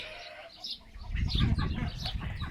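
A white farm duck and two drakes make a short burst of quacking and clucking calls close by, rising after a quiet start and continuing in a busy cluster with no talk.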